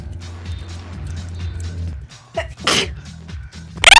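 Outdoors, a person with the photic sneeze reflex lets out two sharp sneezes, one after a low murmur of background noise and a second loud burst at the end.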